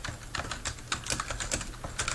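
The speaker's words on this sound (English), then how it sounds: "I'm trying to type fast." Fast typing on a computer keyboard, a rapid irregular stream of sharp, light key clicks, close and fairly quiet, heard alone with no voices.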